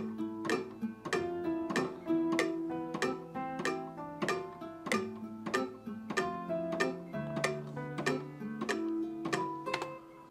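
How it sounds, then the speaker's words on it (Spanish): A cowbell is struck in a steady, evenly spaced rhythm inside FL Studio for a Latin rap beat, each bright metallic hit ringing briefly, close and alone with no talking. "Primero vamos a grabar la campana, el cencerro, lo que sea"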